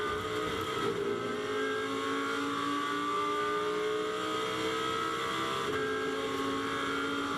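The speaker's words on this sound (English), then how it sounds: "Great noise from that Audi engine" An Audi race car engine in a 2021 GT2 European Series race at Misano, heard from onboard, drones loud and continuous as it accelerates, with rising pitch through the gears and a brief dip for a shift.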